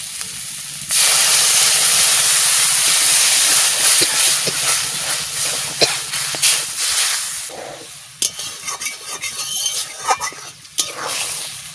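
Loud, steady sizzling hiss erupts as water hits a hot pan of cooked prawns, gradually settling into uneven crackling and bubbling.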